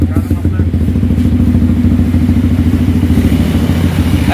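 Yamaha XSR 155 motorcycle fitted with an SC Project exhaust idling, giving a loud, close, steady throbbing exhaust note with rapid even pulses throughout.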